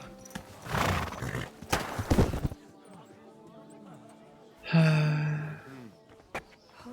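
A horse in the medieval game Kingdom Come: Deliverance II snorts and blows heavily, then gives a clear close neigh, with hoof clip-clops and a voice talking around the animal sounds.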